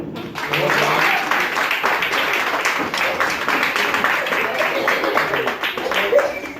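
Audience applause at an evening show at a campsite, a steady wash of clapping from a crowd, with voices and cheers mixed in throughout.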